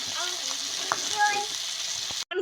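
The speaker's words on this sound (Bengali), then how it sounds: "এই যে মাছটা ভেজে নেই" Fish fries in a pan with a soft continuous sizzle up close, joined by faint clinks and brief household sounds, and a quick cut-out near the end.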